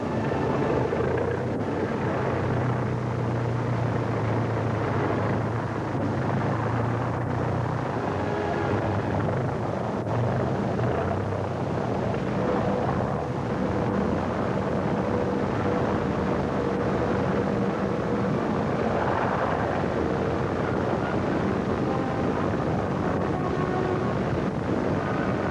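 A World War II tow plane taxis down a runway with a glider in tow, its engine giving a steady, loud, continuous drone throughout.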